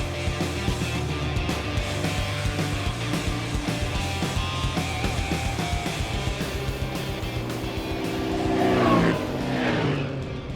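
A Polaris 1000 Sportsman ATV drag racing a Can-Am launches hard off the line, its engine droning loud and steady before a rising rev near the end.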